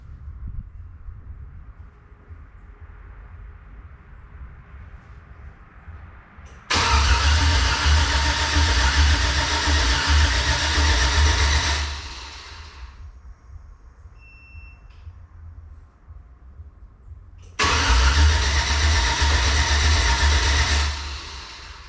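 Chevrolet Yukon truck engine being primed after a cam swap, with the fuel pump fuse pulled: two loud, steady cranking bursts of about five seconds each, separated by a quieter idle-level pause.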